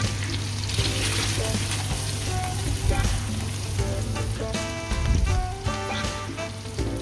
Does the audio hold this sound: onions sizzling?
yes